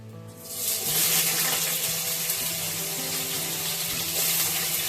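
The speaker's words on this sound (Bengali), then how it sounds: "প্রথমে আমি পনিরগুলোকে ভেজে নেব।" Chopped paneer pieces, about 100 grams, fry in hot oil in a pan, a loud close steady sizzle that bursts up after the first half second and holds evenly with bright hissing spatter.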